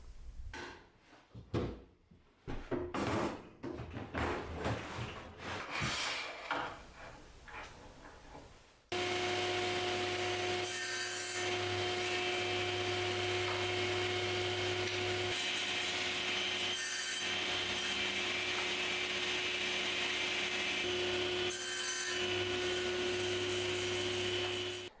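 Wood offcuts being cut to length for garden planter cladding: a few seconds of scraping, rubbing handling noise, then a steady loud machine whine running alone with brief dips as each piece is cut.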